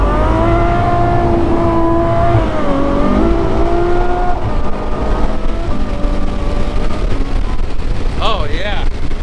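A Ferrari 812 Superfast V12 fitted with a Kline Inconel exhaust revs loudly and close, its pitch climbing and falling in long sweeps and then settling to a deep rumble, with a brief voice near the end.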